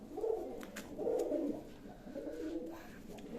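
A pigeon gives three or four rolling, throaty coos in steady succession, close and clear with no talking, over a quiet background.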